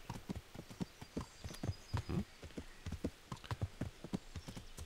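Horse hooves clop in a rapid, uneven rhythm on the ground in the medieval video game Kingdom Come: Deliverance, close and clear with no other sounds over them.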